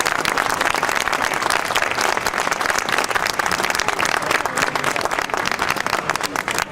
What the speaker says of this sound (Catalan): la podríem premiar amb el que busquen els grans actors, que avui en tenim també per aquí, que és un fort aplaudiment